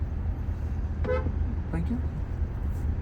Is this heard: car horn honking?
yes